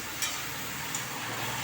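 Tender chopped brinjal fries in a pan, a soft steady sizzle with two brief clinks of utensils, close and fairly quiet, no speech.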